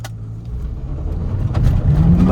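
Engine roar from a Volkswagen Virtus with DSG gearbox in sport mode, racing a BMW X1 side by side, loud and steadily building as the car accelerates, with a rising drone toward the end and no talk.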